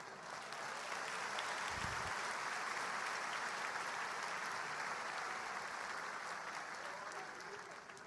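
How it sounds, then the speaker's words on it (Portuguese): A congregation at a church conference gives fairly faint, sustained applause, an even, distant-sounding wash of clapping that carries on for several seconds before easing off, with a brief low thump partway through. "Dê um aplauso aos nossos."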